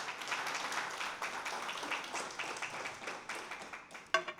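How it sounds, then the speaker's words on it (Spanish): Church congregation clapping during a Sunday sermon, a steady wash of many hands applauding at moderate distance, fairly faint, with a sharper nearby clap near the end. "Aplaude al Señor si deseas"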